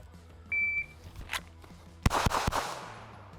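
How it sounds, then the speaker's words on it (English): A shot timer's short electronic beep signals a pistol draw from concealment, with a Shadow Systems CR920XL, followed by a sharp crack and a few quick, loud pistol shots outdoors. "When the buzzer goes off, I'll draw from concealment while approaching the target."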